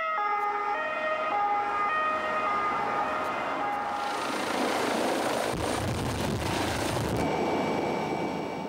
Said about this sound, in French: L'activité du SAMU monopolise les 2 hélicoptères.